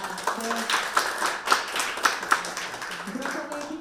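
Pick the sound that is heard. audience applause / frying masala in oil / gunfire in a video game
audience applause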